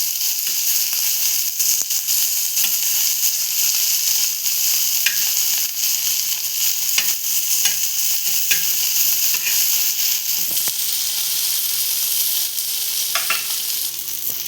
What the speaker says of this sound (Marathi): आता इथे आपण अजून एकदा पलटी मारून घेतोय मच्छीला